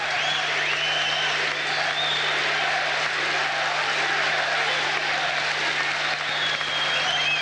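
Darts crowd roaring, cheering and applauding at the finish of a match, a sustained dense wall of claps and shouts with whistles, loud and unbroken from start to end.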